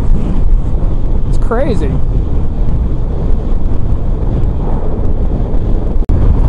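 Strong wind buffets the microphone in a constant low roar along a coastal road on the Cabot Trail, with someone speaking briefly over the gusting noise.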